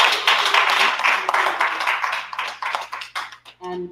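An event audience applauds the winners with brisk, close clapping that rises, wavers and trails off into scattered claps, with a brief tonal sound right at the end.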